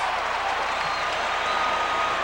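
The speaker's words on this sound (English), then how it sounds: "Now this crowd is a rowdy, rambunctious group. They'll cheer for almost anything." Dense, steady roar of a hockey arena crowd at a 1994 Vancouver at Dallas playoff game, a continuous wash of cheering and applause filling the whole stretch at even loudness.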